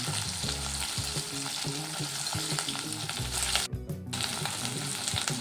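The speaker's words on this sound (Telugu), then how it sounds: "నెయ్యి కలుపుకుంటూ ఫ్రై చేసుకోండి." Stuffed okra fries in ghee with a loud, continuous sizzle close by, and a steady stream of spatula scrapes and taps as it is turned. One brief dip in the noise comes midway, and no one talks.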